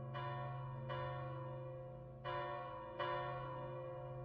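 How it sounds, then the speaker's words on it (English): City alarm bells toll in a fantasy setting, four separate bell strikes, each ringing out with a long humming decay, moderately loud and without voices. "with the alarm bells of the city spreading throughout the area"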